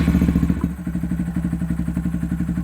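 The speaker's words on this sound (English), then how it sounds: "start it up, make sure the check engine light is not on, and listen to it purr." A Honda Monkey 125 motorcycle fitted with a short ram air intake idles close by, its single-cylinder engine thumping in a steady, even, rapid pulse with a light mechanical clatter.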